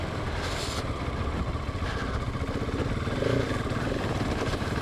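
A Husqvarna motorcycle being ridden outdoors on a cold day, its engine droning steadily and fairly loud, with rushing wind noise throughout and a slight swell near the end.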